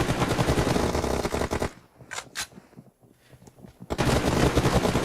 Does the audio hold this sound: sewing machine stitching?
no